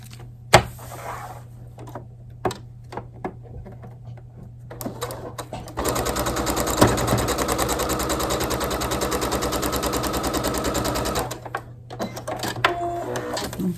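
A domestic sewing machine stitches a foundation paper pieced quilt block in one steady, rapid run of mechanical clatter lasting several seconds, framed by quieter handling clicks and taps before and after.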